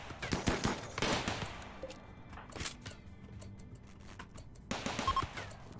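Automated turrets in RimWorld fire on raiders, a dense clatter of rapid gunshot bursts near the start, thinning to scattered shots, then another loud burst near the end.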